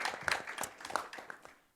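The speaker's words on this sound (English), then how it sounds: "Little round of applause for that." Brief patter of audience applause at a women's empowerment event, a small crowd clapping near and fairly soft, fading out within two seconds.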